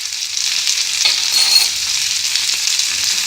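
Capsicum and green chilies sizzle and fry in a pan for sooji upma while being stirred, a loud close hiss of hot oil with scraping movement and no talking.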